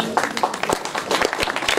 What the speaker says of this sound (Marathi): थंडी आहे पण टाळ्या जोरात वाजवायला काहीच हरकत